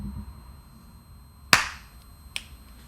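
A single sharp hand clap marks sync on a film set, close and loud against a quiet room, followed by a fainter second snap a moment later.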